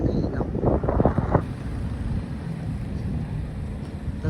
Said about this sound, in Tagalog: Sariwang hangin, tas mahangin pa guys.